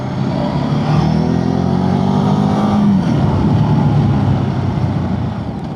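A motorcycle accelerates and overtakes another vehicle on a straight road in winter, its engine revving loud and close with a rising then falling pitch as it pulls past, and steady wind roar underneath.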